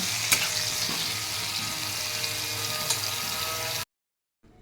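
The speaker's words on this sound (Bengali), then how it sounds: "সব আলু পটলগুলো দিয়ে দিলাম ভালো করে আমি আলু পটলগুলো লাল লাল করে" Potatoes and pointed gourd fry in hot oil with a steady, dense sizzle and a few soft stirring knocks, close and fairly loud, cutting off abruptly before a brief quiet tail.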